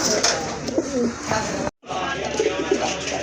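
Rajgolla pigeons, deep red with white tails, coo in soft repeated calls nearby, with a brief dropout midway and faint background noise.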